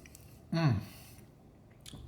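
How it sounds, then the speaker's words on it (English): A single close, crisp bite and chew into crunchy zucchini sushi, one short loud crunch against quiet room tone, with a faint sound at the end. "The zucchini gives it just the right amount of snap and crunch."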